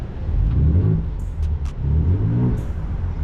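A Ford Ranger Raptor pickup engine, in sport mode, revs in two deep, rumbling surges that swell and fade, loud and close.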